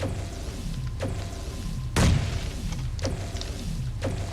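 A single muffled grenade boom in PUBG bursts midway through, short and punchy, amid low background rumble and a few faint clicks.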